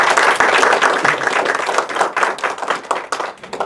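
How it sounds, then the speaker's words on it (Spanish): An audience at an academic talk on autism applauds a speaker, with dense, continuous hand clapping that swells and then thins toward the end. "Entonces démosle un aplauso al doctor,"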